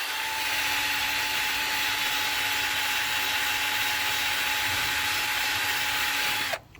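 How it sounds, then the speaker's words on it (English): A power drill with a wire brush whines steadily with a rough, gritty scrubbing layered on top as it strips paint from paving, running continuously at close range before cutting off abruptly at the end. "Right, here we go with our wire brush."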